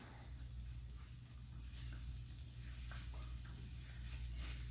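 Red onion sizzling steadily in a pan, a soft continuous crackle with faint low hum, close and fairly quiet throughout, with no talking.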